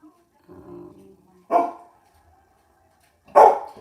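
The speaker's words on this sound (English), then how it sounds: "You're not going to start barking now that I'm doing this." A dog gives a low growl followed by two sharp, close barks spaced apart, with silence between them.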